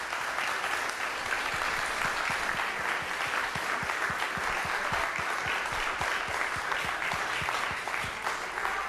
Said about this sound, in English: Un aplauso a todos los que participaron.